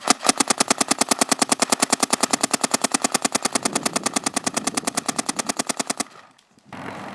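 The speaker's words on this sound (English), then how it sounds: "For fun, let's rip a few so we can get a comparison on sound signature." Proto PMR paintball marker with its stock bolt firing a long rapid string of evenly spaced shots, loud and close for about six seconds, then stopping abruptly, followed by a low background rumble.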